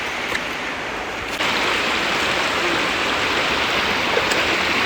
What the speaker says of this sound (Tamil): இங்கே வச்சு நம்ம சிக்கனை கழுவி முடிச்சிடலான்னு இருக்கோம்.